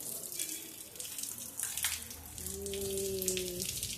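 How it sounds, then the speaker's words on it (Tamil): A downpour of heavy rain in Madurai rushes in a continuous, close wash of splashing water, with a brief faint voice or tone surfacing under the roar near the end. "வெளியிலேருந்து நல்ல மழை பெஞ்சிக்கிட்டு இருக்குங்க."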